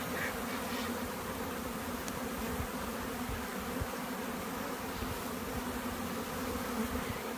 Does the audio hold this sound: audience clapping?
no